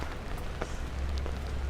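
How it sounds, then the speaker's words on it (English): Rain falls on a New York City street on a Monday morning during a walk from Brooklyn toward Manhattan, a steady close hiss with scattered drips and a low rumble of city noise underneath. "It's raining."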